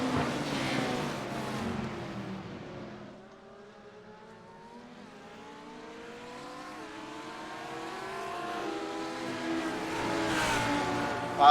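GT3 race cars in a racing video game at the Nürburgring Nordschleife, engines revving and shifting through gears with rising and falling pitch sweeps, loud at first, dipping mid-clip, then building again.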